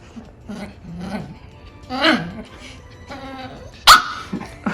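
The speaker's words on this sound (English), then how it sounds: "Have to work on your bark, buddy." An 8-week-old Shiba Inu puppy lets out a few short, squeaky barks and yips close by, mixed in with people talking.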